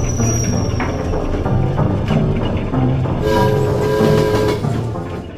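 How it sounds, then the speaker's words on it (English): A train rolls along the railroad, a loud, close, continuous rumble with rhythmic clatter and a brief tonal horn-like whine partway through. "Such sounds came from along the railroad"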